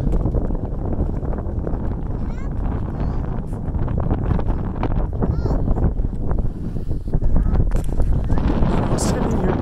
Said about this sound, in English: I know the wind is picking up again